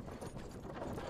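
A horse's hooves clip-clop in the video game Myth of Empires, a steady, fairly faint rhythm of repeated hoof falls.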